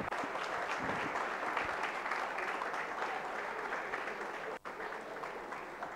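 A crowd applauds the winners of a project competition at a prize distribution, with dense, sustained clapping that runs steadily throughout and has one brief break near the end.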